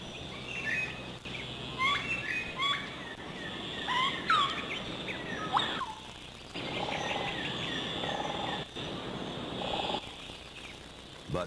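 Plum-faced lorikeets in the New Guinea highlands give short, high chirping calls in scattered bursts over a steady wash of forest insects and ambience.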